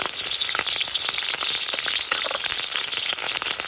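Green chilies and onions frying in hot oil for crab mandi, a steady dense sizzle crackling close and loud throughout with no voices.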